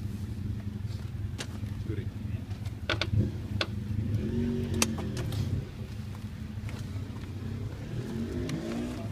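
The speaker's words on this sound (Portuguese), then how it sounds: "olha o som da moto do cara aí" A motorcycle engine idles and revs in short bursts close by in Japan, with background chatter and a few sharp clicks.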